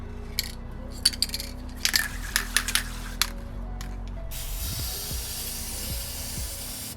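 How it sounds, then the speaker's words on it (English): Short bursts of aerosol spray paint hiss onto a BMW M3 brake caliper, several quick spurts with faint clicks and handling noise, then a longer continuous spray near the end. "we're gonna be using this spray paint."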